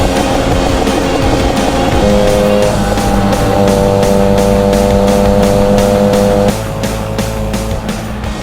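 Peugeot 103 moped engine running steadily while riding on a road, a loud continuous buzzing drone with shifting pitch as the revs rise and settle, close and unbroken throughout with no talking.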